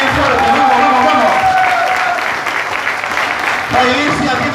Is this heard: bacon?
no